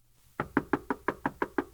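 Eight quick, even knocks rap on a door in a steady rhythm, close and crisp, with nothing else heard around them.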